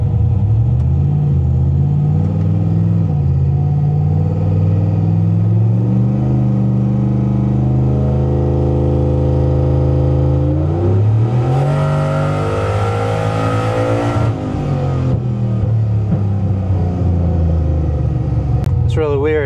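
An 800hp small-block Chevrolet Silverado truck with a Holley Terminator X engine loudly drones, then revs up with a rising pitch before settling back to a rumbling idle during a tuning run, with talk over it.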